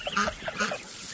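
Domestic geese honk repeatedly at close range while feeding on crushed grain among ducks and goslings, a dense overlapping chatter of nasal calls.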